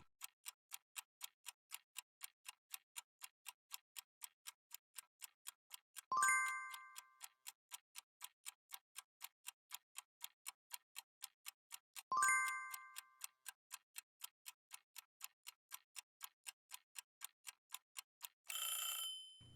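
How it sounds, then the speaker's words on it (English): A countdown timer clock ticking steadily at about two ticks per second, quiet and crisp, interrupted by two short ringing dings and ending in a brief alarm burst. "And just like on a real test, I'll set a timer."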